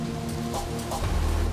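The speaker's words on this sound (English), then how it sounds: "the floodwater comes from a surprising source: rain" Rain falling as a steady, dense hiss with a low rumble underneath, continuous and fairly loud, with no voices.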